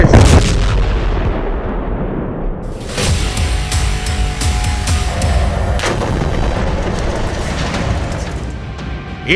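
Artillery fire and explosions during the bombardment of Gaza, loud and continuous, with dense booms and sharp bursts repeating through the whole stretch and no voices.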